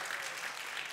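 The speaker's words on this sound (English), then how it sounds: "go ahead and clap." An audience at a church evangelism session claps in a brief, dense wash of applause that stays level throughout.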